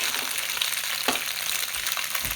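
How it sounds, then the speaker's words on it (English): Tofu fries in a pan with a steady, dense sizzle and a brief nearby clink, close and continuous, with no talking. "as my tofu cooks, I will continue to prep"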